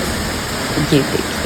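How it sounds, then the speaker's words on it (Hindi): Fast-flowing Bhimsi waterfall on the Madhmaheshwar trek, a steady broadband rush of water that fills the whole clip, with a brief voice speaking over it. "भीमसी झरना है। आवाज़ से आपको अंदाज़ा लग रहा होगा कि कितनी तेज़ी से बह रहा है ये।"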